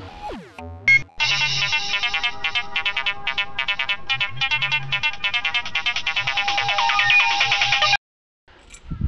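A phone ringtone plays while a call is placed, a loud, close electronic melody of bright repeating tones that loops for several seconds and then cuts off abruptly.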